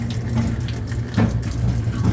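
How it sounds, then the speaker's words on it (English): A washing machine filling with water on its fill cycle in a river house: a steady, close rush of running water with slight surges, with no talk. "we're just going to go ahead and start the wash machine on a fill cycle"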